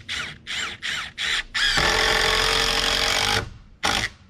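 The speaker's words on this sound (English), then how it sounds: "drive some screws in." A power drill drives screws into a metal porch roof: four short whirring bursts, then one long grinding run and a final short burst, loud and close with no talk.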